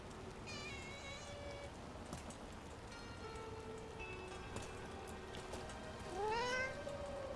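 A cat meows several times in the Dragon Age: The Veilguard game, its calls rising and falling over a steady patter of rain, with a louder drawn-out meow near the end.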